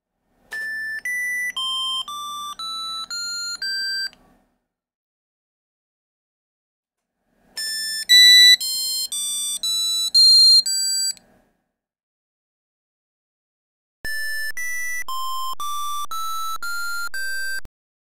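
Square-wave beeps from a PC speaker piezo driven by a GW-BASIC PLAY statement: three quick melodic runs of stepped notes, separated by silent gaps, clear and fairly loud with no talking.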